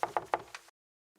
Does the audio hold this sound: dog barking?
no